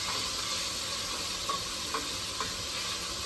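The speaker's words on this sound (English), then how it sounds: "And then we'll go ahead and get this stirred around." Onions and garlic being stirred in a pot for sweet potato chili, a steady sizzling hiss throughout with a few faint scrapes of the spoon, no voices.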